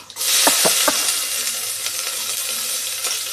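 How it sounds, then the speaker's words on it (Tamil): Fennel seeds hit hot oil in a pressure cooker, bursting into a loud, steady sizzle with a few sharp crackles at the start that settle into a dense hiss. "இவங்க கொஞ்சம் எண்ணெய் ஊற்றிட்டு சோம்பு கொஞ்சம்,"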